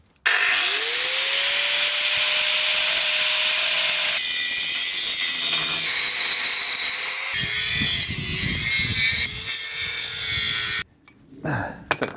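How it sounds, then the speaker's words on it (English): An angle grinder spins up with a rising whine, then cuts loudly and steadily for about ten seconds before winding down and stopping. "We've trusted Harrison with the mighty angle grinder"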